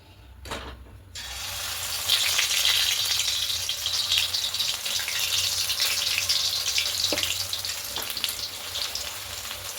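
Catla fish pieces dropped into hot oil in a wok, a sudden surge of loud, dense hissing sizzle following a couple of brief knocks, then holding steady and close throughout.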